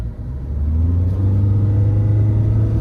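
A Mahindra XUV 500 SUV fitted with upsized tyres and alloy wheels accelerates on a road, a loud, steady low engine rumble that builds slightly and then holds.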